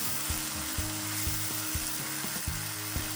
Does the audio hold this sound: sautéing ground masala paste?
yes